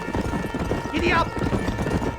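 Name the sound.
horse galloping, from the video game Red Dead Redemption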